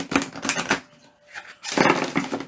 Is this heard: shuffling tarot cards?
yes